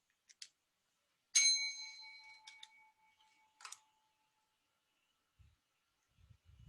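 A hand bell rung by a teacher as a cue to make a flashcard during a lesson, sounding a bright ring with a lingering tone, then a couple of softer dings, with faint low rumbles near the end.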